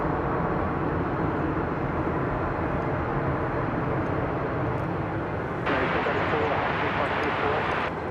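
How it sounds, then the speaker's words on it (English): An American Airlines Boeing 737-800 arriving as Flight 1034 from Guadalajara, a continuous jet rumble that swells brighter partway through, with a voice talking over it. "American Flight 1034 arriving from Guadalajara, Mexico."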